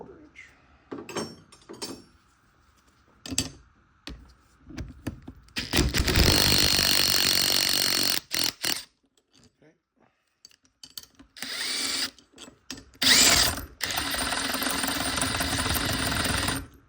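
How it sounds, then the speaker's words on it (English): A small 3/4 inch impact wrench hammers in several loud bursts while removing the lower bearing from an Old Man Emu BP51 shock absorber, with quiet gaps and tool handling in between. "If you have a small impact wrench, this works really well. 3/4 inch."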